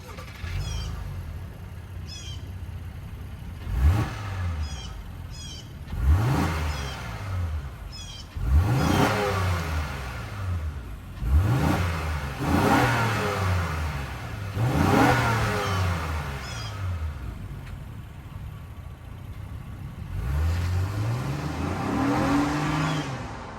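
A 2023 Honda Pilot's 3.5 liter V6 engine revs repeatedly, each throttle blip rising and falling in pitch, loud and close, with short pauses of idle between bursts.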